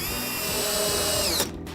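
A power drill drives a SPAX power lag screw into treated lumber without pre-drilling, a short, close whine that holds steady and then cuts off abruptly as the screw seats.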